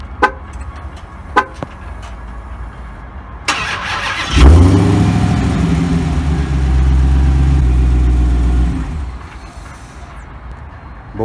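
2019 Dodge Challenger SRT Hellcat Redeye remote starting: a few short clicks and beeps, then the engine cranks and fires with a loud roar that settles into a deep, rumbling idle before easing off.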